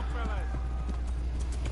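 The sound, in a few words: horse hooves galloping in the video game Kingdom Come: Deliverance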